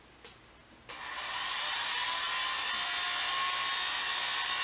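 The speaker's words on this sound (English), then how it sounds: "Now I'm just going to do the drill slowly and you'll watch the wire twist." A power drill slowly twists jewelry wire held in a vise, starting after a couple of brief clicks and then running as a steady, loud, high whine that holds for several seconds.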